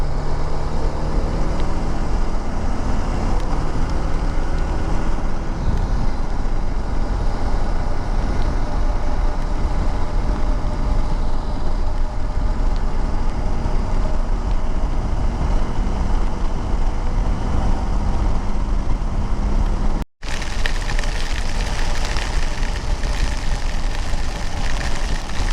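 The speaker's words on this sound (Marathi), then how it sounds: "It's raining so heavily" Heavy rain pours steadily around a rider on a Dominar 400 motorcycle in a deep forest, a loud continuous roar of water and wind noise filling the whole stretch, briefly cutting out once.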